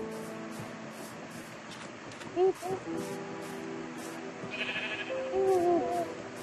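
Sheep bleat in the Minecraft video game, a few short warbling calls heard alongside a tinkly game background.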